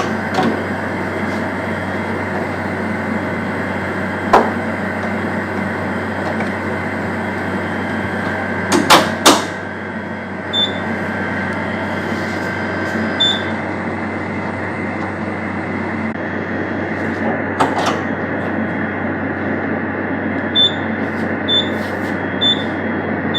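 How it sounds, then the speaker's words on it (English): A laboratory centrifuge spins a culture at 4000 rpm, giving a steady, even whirring hum with a few faint clicks and knocks along the way. "Now I am going to centrifuge the culture at 4000 rpm for 10 minutes."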